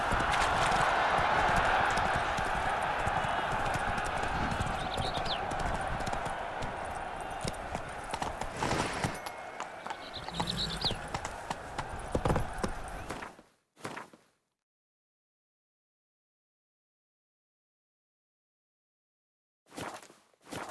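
Hooves of the horse Roach clip-clop steadily in Witcher 3: Wild Hunt, a loud continuous gallop with ambient game sound that stops abruptly near the end, followed by silence and a brief return of sound.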